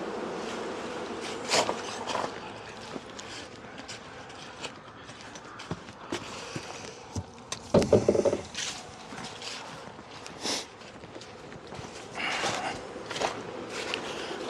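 Honeybees buzz around an opened hive in Connecticut, a faint steady drone close by, broken by the clatter and knocks of equipment being handled and occasional louder bumps.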